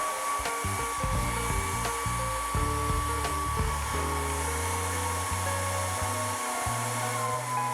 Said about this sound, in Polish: po dźwięku słyszycie, że suszarka zeszła z mocy, ale wciąż oba urządzenia działają